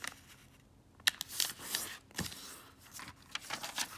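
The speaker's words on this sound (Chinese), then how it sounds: "首先把两个角对折，" Small square paper, five centimetres a side, is folded and creased at the corners for an origami elephant, with close crinkles, soft rustles and sharp crease snaps.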